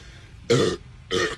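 Two loud, close burps from a competitive eater after chugging a 2-liter drink, a long rough belch followed moments later by a shorter one.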